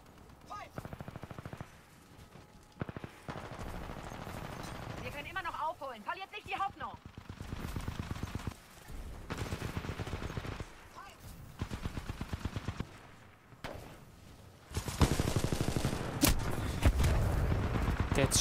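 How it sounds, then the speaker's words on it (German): An automated gun turret in the video game Titanfall 2 fires in long rapid bursts of gunfire, loud and close, broken by brief pauses, with someone talking over parts of the shooting. "Stand da ein scheiß Geschütz."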